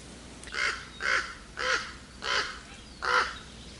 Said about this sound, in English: You hear birds and the breeze and all that